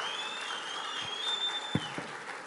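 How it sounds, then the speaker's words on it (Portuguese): Audience applause at the CPAC Brasil 2019 conference for minister Ernesto Araújo, a dense, fairly distant clatter of clapping sustained throughout, with a sustained tone running above it and a couple of sharper thumps near the end. "eu estava detrás do palco e não ouvi os aplausos para o ministro Araújo"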